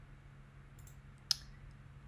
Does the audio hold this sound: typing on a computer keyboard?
yes